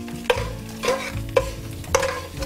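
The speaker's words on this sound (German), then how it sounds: "Ja, jetzt tun wir den Speck hinein in die Pfanne noch." Bacon sizzles in a frying pan with onions, the steady crackle broken by four evenly spaced scraping stirs of a utensil against the pan, close and fairly loud, with no voices.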